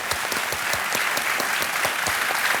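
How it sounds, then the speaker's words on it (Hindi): Studio audience on the KBC quiz show set applauding loudly and steadily, a dense wash of hand claps with rhythmic beats punching through, continuous across the whole stretch. "जोर से एक बार बजा दीजिए, तालियां बज जाए इनके लिए"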